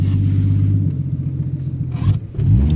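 A 1983 Ford LTD accelerates through a corner with a steady, loud low engine rumble close by. The engine wavers and dips briefly near the end, then picks back up.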